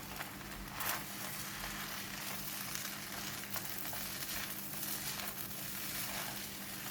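Seafood vermicelli with crispy fried garlic, chili and spring onion sizzles in a hot pan during a final toss, a steady, soft frying hiss with faint stirring scrapes and no talk.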